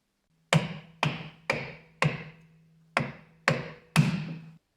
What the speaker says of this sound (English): I like to grab a piece of wood and hammer the wood on here